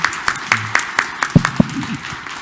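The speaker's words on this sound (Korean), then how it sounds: "그냥 박수 쳐주면 좀 좋습니다" Scattered hand claps from a church congregation at a Korean Catholic memorial Mass in Detroit, a few sharp separate claps over about two seconds with a low murmur of voices underneath, modest and brief rather than a full ovation.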